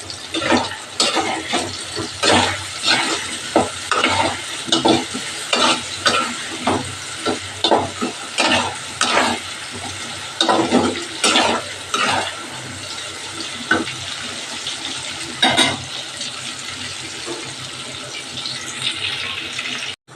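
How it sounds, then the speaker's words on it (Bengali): Potatoes and onions fry in a pan with salt and turmeric, a sizzling bed broken by repeated rhythmic scraping stirs, close and fairly loud, with no talking. "বন্ধুরা দেখো আলু আর পেঁয়াজটা আমার হালকা ভাজা হয়ে গেছে"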